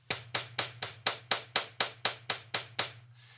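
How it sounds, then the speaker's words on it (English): Eleven sharp, punchy bass drum hits with a triggered attack element from a Roland TM-2, in a steady, even rhythm, each a bright clicky attack, with a low hum underneath and a faint tail at the end. "Here we do this with the bass drum. It's just an attack."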